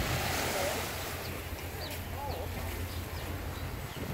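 Waves break and wash onto the beach by the cabanas at De Palm Island in a continuous rushing surf, with gusty wind buffeting the microphone and a faint bird call now and then.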